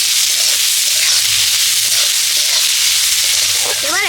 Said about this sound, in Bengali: এবার ভালো করে ভেজে নেব এগুলোকে